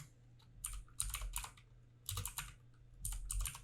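Typing on a computer keyboard: quick bursts of soft, close key clicks in irregular clusters, with brief pauses between runs, quiet and alone with no talking.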